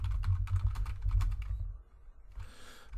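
Rapid clacking keystrokes on a computer keyboard, a quick burst of typing that stops briefly and then resumes, close and fairly clear with no speech over it.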